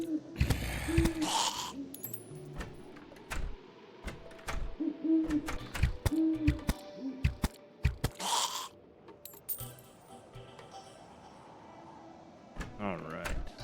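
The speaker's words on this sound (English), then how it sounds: "A really loud owl." Owl hooting in the game Terraria, a loud, humanlike hoot heard as a couple of brief bursts among clicking game mechanism sounds and quiet interface noises.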